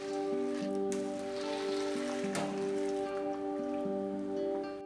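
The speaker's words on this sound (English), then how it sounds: "Boiling water." Water boils with ring pasta in a pot, a soft, continuous bubbling crackle heard faintly beneath steady background music.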